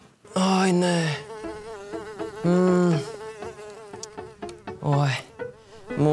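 Buzzing of a fly, voiced by a person imitating it, comes in loud, wavering bursts that bend up and down in pitch, separated by short pauses, close and clear.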